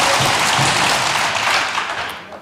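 Studio audience on a TV talk show breaking into loud, dense applause that holds steady and then tapers slightly toward the end.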